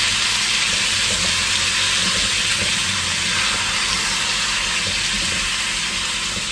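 Onions and grated tomatoes sizzle in a pan, a loud continuous hiss and crackle close up throughout, with no voice over it.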